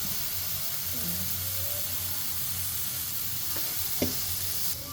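Brinjal slices pan-frying like fish fry, a soft continuous sizzle with a faint low hum and a couple of brief clicks near the end, close but fairly quiet.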